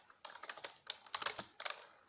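Keystrokes on a computer keyboard while entering CSS code for a web page: close, irregular bursts of crisp clicks with short pauses between words.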